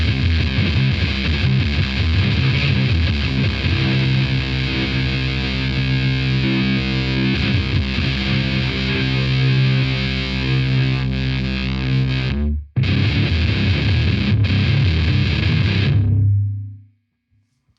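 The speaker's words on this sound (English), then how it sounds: "Crank that distortion." Heavily distorted electric guitar through a Daphon E20MT Heavy Metal pedal plays loud, sustained chords for about sixteen seconds, with a brief dropout near the end before ringing out and cutting off.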